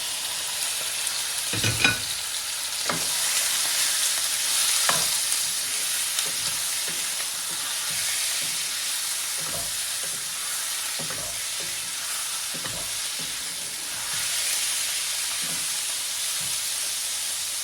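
Mutton pieces frying in hot oil in a pan with salt added, giving a steady close sizzle and hiss with intermittent scraping stir knocks throughout, no voices.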